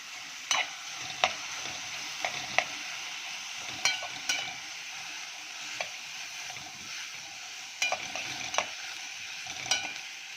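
Green beans frying in a pan with ghee and a little oil, stirred with a utensil that clacks against the pan at irregular intervals over a steady bright sizzle, close by.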